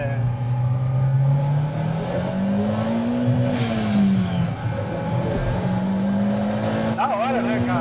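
A VW Gol 1.0 biturbo compound with FuelTech pulls hard in second gear, its engine note climbing steadily, dipping at a shift and rising again, with whooshing turbo and blow-off hisses; someone talks over the loud, close engine.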